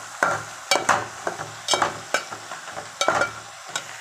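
A spoon scrapes and stirs ground masala with turmeric and chili powder in hot oil for a South Indian kara kulambu. Short irregular scrapes sound over a soft sizzle, close and fairly quiet, with no talking.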